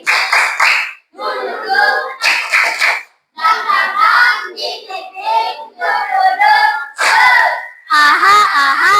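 Classroom pupils clap together in a loud, rhythmic cheer, bursts of sharp hand claps and shouted chanting voices arriving in quick patterned groups with brief pauses between them, close and energetic.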